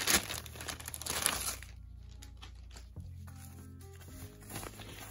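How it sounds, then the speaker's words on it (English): Plastic bag packaging from a Cinderella doll playset crinkles and rustles loudly for about a second and a half, then softer intermittent crackling follows over a low steady hum. "So this is plastic bag."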